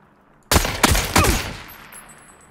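Gunfire in PUBG: three sharp, loud shots in quick succession, each with a ringing echo tail that fades out, heard alone against a quiet background.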